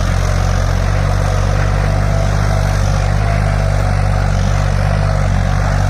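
A Farmtrac 60 Powermax tractor engine fitted with a turbo, pulling a load in third gear, drones loud and close in a steady, unbroken low rumble.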